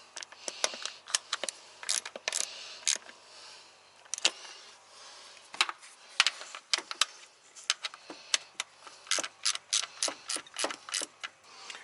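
A ratchet clicks rapidly in short bursts while tightening a bolt on the ignition coil of an AE92 Toyota Corolla, crisp close ticking with brief pauses between strokes.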